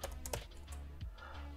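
Keystrokes on a computer keyboard while commands are entered in a Linux terminal during a Wi-Fi hacking framework tutorial; a few quiet, close clicks over a faint steady background hum, with no voices.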